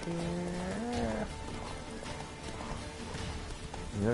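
Horse hooves clip-clop in the video game The Witcher 3, a quiet, steady trotting rhythm in the background, with a brief tonal game sound near the start.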